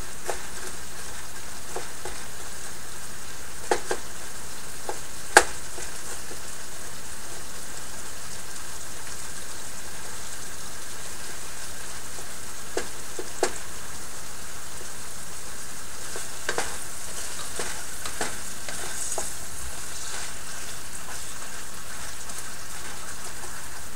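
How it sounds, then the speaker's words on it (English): Onions frying in a pan, a steady soft sizzle and crackle running throughout with scattered sharper pops and clicks, fairly quiet and unaccompanied by talk. "There's the onions going in."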